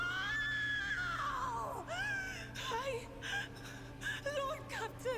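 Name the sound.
scream in the video game Warhammer 40,000: Rogue Trader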